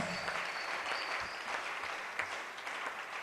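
A church congregation at a worship gathering breaks into applause, a continuous wash of clapping from many hands, fairly faint and distant, holding steady without a break.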